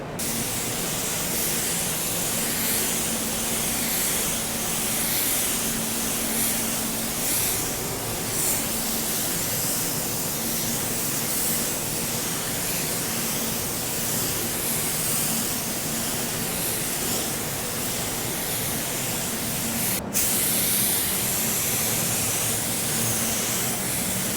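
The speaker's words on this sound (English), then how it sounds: "We'll apply our base coat now, and we're not gonna go too heavy on our edges once again." Spray gun applying base coat paint to a car bumper in a bodyshop, a continuous loud hissing spray that runs almost unbroken, with a brief sharp click near the end and no talk.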